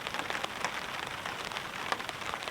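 Heavy rain pours steadily onto a tarp at a campsite with a campfire burning, a dense, close patter with scattered sharper drops and no voices.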